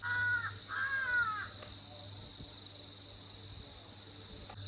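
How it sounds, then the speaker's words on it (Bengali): In a hill village near Darjeeling, a bird gives two drawn-out, harsh calls close by in the first second and a half, then a steady high insect drone continues alone over quiet outdoor ambience. "জায়গাটা চোখ বন্ধ করে ফিল করছি চারিপাশে পাখি পোকামাকড় ডাকছে"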